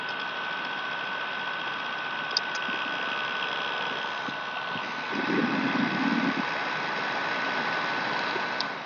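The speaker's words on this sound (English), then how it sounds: "The left side is kind of whining a bit." A cheap bladeless neck fan's small motor gives a steady, thin whine with a faint rattling buzz, running close and continuous on its own, with a brief swell of lower rumbling near the end.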